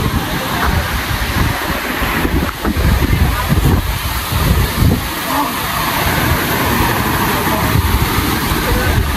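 Strong wind blowing across the hilltop at Raireshwar fort, a loud continuous roar and buffeting against the microphone with gusty surges, with faint voices underneath at times.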